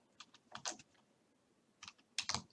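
Typing on a computer keyboard while entering code: two separate bursts of fairly close keystrokes, a quick cluster of clicks first, then a pause, then a second short run, with no voice.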